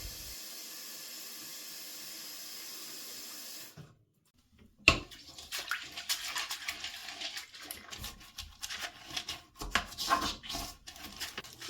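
Water running and swishing while a toilet is cleaned in a bathroom, a steady hiss first, then a brief pause and an irregular burst of splashing and rushing water.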